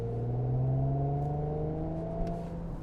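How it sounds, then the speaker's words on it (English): A 2018 Audi S5 Sportback with a 3.0 TFSI V6 and quattro revving, a loud smooth engine note climbing steadily in pitch and holding high, heard close and alone. "a higher rev ratio and a bit of a naughtier sound from that exhaust, like this."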